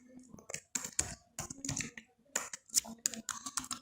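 Fingers tap out code on a computer keyboard in quick uneven bursts of close clicks, with a voice talking over part of the typing.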